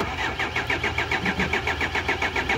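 Off-road rally car engine being started for a night stage of a trophy raid, the starter cranking in a rapid, even, pulsing churn, loud and close, with no talk over it.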